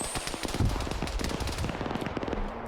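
Dense, rapid automatic gunfire in a night firefight in the video game Arma 3, loud continuous rattling bursts with overlapping shots and no voices.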